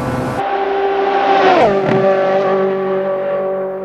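Nissan GT-R R35 tuned to 1266 horsepower roars at high speed on a highway in a realistic racing simulator, a loud, steady engine drone that rises and dips briefly between gear changes.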